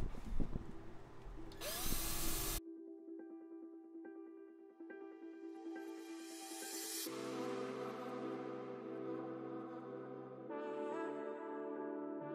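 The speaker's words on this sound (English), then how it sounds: "I'm gonna drill a hole in the bottom of it" Power drill boring a hole into the underside of a Subaru STI rear wing, whining close up in several bursts that shift pitch as the bit spins up, bites and eases off, with a short hiss at the start.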